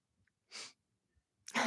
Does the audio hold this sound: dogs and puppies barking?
no